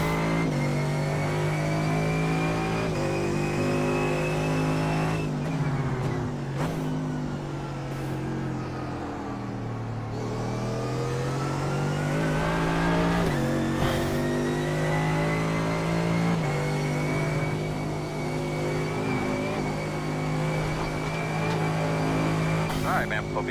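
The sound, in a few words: Mercedes AMG GT3 race car engine, iRacing video game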